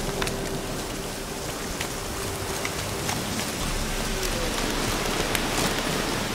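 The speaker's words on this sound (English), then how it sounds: "Looks like rain." Steady rainfall in the video game The Witcher 3: Wild Hunt patters continuously throughout, a dense hiss of drops with occasional sharper taps, no voices present.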